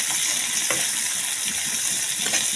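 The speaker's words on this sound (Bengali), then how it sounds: "পেঁয়াজ দিয়ে দিলাম তেলে।" Onions frying in oil for an egg and young jackfruit dish, a loud continuous sizzle that stays close and even throughout, with faint stirring knocks underneath and nobody talking.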